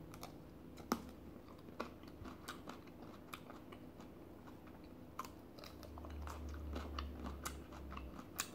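Someone bites into and chews a crunchy autumn fruit with a pit inside, giving sharp, intermittent crunches spread over a steady low background hum, close and fairly quiet, with no talking.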